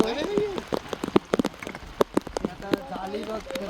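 Rain falling at sea around a small fishing boat, a steady patter on the surfaces with scattered sharper drops, heard under intermittent talking.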